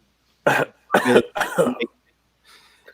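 Three harsh coughs in quick succession, close and loud, followed by quiet.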